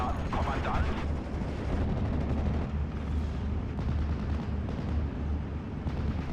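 Nebelwerfer rocket artillery firing in the World War II strategy game Steel Division: Normandy 44, a steady roar of heavy battlefield fire and rumbling blasts that runs throughout without pause.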